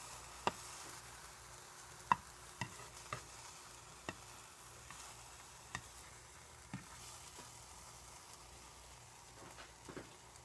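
Food cooking in a nonstick pan gives a faint, steady sizzle, broken by scattered sharp ticks and scrapes from stirring, close and quiet with no voices.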